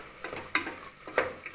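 Coriander powder, garam masala, pepper powder and turmeric are sautéed in a pan for rabbit curry. There is a quiet, continuous sizzle, with two sharper spoon scrapes and stirring taps close by.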